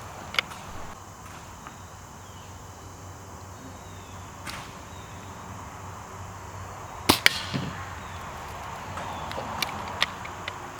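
A Daisy Red Ryder BB gun fires BBs at targets, a few sharp snapping shots and impacts over a steady background hiss, with one louder pair of cracks midway and lighter ticks afterward.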